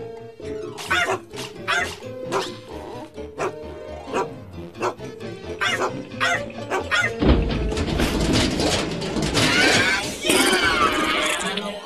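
A dog from the 2000 children's film IZ and The Zizzles barks in short, repeated yips and woofs with whimpers between, close and clear, followed by a louder burst of noise and commotion.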